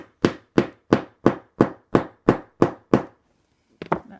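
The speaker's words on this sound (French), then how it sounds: "Vous prenez votre marteau et vous venez taper bien droit." A hammer drives a metal rivet through a leather handle in nine sharp, evenly spaced strikes, loud and close. A short shuffle of handling follows the last blow.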